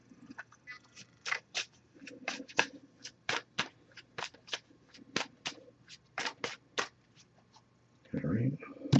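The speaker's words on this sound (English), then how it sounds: "I'm just going to give this a few shuffles real quick." Rapid crisp riffling bursts of an oracle card deck being shuffled, about a dozen quick flicks in a steady rhythm, close up, with a soft voice murmuring briefly at the end.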